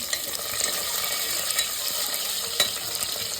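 Garlic cloves and green chillies roasting in a pan for a rice khichdi, giving a steady close sizzle with faint scrapes and stirring clicks throughout, no voices.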